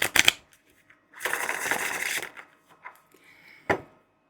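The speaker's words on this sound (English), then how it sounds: "Overhand, nice overhand shuffle as well." A tarot deck is given an overhand shuffle: a quick crisp snap, a few seconds of steady papery riffling, then scattered light card taps and one last sharp flick.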